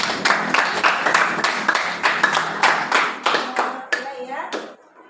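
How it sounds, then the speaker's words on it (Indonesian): Classroom applause from a group of students, a burst of fairly loud, uneven clapping that keeps going for several seconds and then thins out. Scattered young voices can be heard chattering over it. "Luar biasa tepuk tangan."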